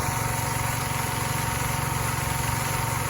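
An engine-driven pump draining excess water from a flooded rice paddy runs with a steady, continuous mechanical drone and a low throbbing rhythm, close and unbroken throughout.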